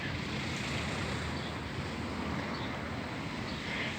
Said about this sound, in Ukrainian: Вітер невеликий.